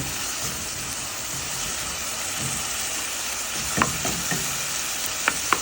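Onions fry in a pan for a bitter gourd curry, giving a steady close sizzle throughout with a few sharp spatula scrapes and taps near the end as they are stirred.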